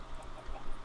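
Chickens in a video game cluck softly in a brief, low burst, a few faint bird calls sitting over a muffled background hum.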